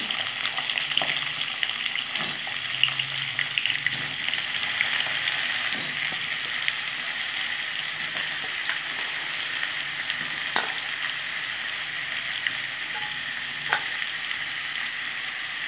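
Chunks of carrot, potato and cauliflower frying in hot oil in a pan, a steady close sizzle with occasional sharp pops and crackles throughout, no voices.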